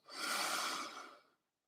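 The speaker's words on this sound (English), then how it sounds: "And then breathing out." A single soft exhale through the nose during a yoga flow, a gentle airy breath that swells and fades over about a second and a half before silence.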